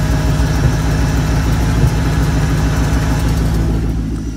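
A Kenne Bell Mach 1 engine idles steadily and loud, with a faint tapping from an AC clutch that moves slightly while disengaged, sounding much like an exhaust leak, with no one talking.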